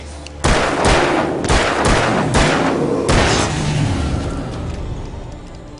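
About six loud gunshots ring out in quick, uneven succession during a firefight in the video game Alan Wake, each sharp crack followed by a brief echoing tail.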